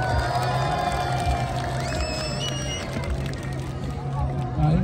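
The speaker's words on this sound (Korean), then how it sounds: "박수 함성." Dense crowd cheering and shouting at the Haeundae Beach sand festival, loud and continuous with excited voices, whoops and babble mixed throughout.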